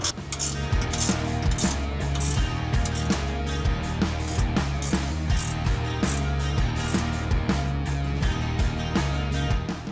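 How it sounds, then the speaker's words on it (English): A wrench ratchets steadily on the bolts joining the main and secondary brackets of a retractable truck bed step on a 2009–2018 fourth-generation Ram, a quick, regular clicking that repeats loud and close for the whole stretch, with no talk. "And now we can tighten down the bolts that are connecting the main bracket to the secondary bracket."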